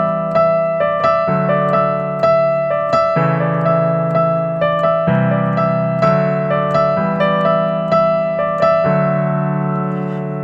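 Sustained keyboard chords from a song change every couple of seconds, each struck with a fresh attack and decaying slightly, steady and fairly loud with no voices.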